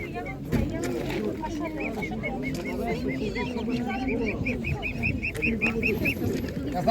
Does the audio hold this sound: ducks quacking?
yes